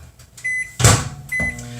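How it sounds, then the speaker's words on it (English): Microwave oven melting butter: a beep, the door clunking shut, then the oven's motor starting up with a steady hum, all close and loud. "but I'm just going to microwave it"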